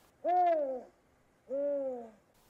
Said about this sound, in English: Number 34, spotted eagle owl.